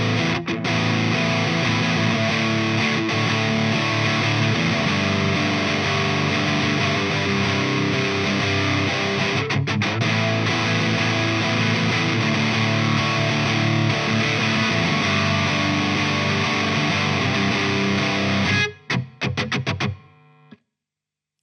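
Electric guitar chords played loud and continuous through a MOOER Hustle Drive or Fulltone OCD overdrive pedal, a thick distorted wall of sound that rings for about eighteen seconds, then breaks off into a few short choked stabs before stopping.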